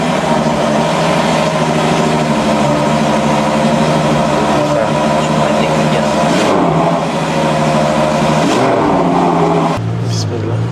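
V12 engine of a German sports car running steadily and fairly loud throughout, with a sustained low rumble and a brief dip near the end; people talk over it.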